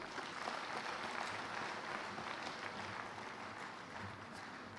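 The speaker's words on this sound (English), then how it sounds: "Please, a round of applause for her." Applause at a professional conference session for the Minister of the FCT, a faint, distant, steady patter of many hands through a large hall, smooth and sustained with no distinct individual claps.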